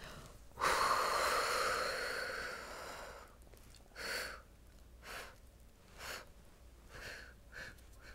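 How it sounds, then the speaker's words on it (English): A strong, forceful exhale blown hard through a breathing exerciser with lips sealed around the mouthpiece, one long rushing blast that tapers off, followed by several shorter, softer breaths at a steady pace. "blow everything out."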